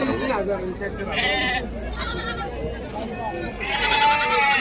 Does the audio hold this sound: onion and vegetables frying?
no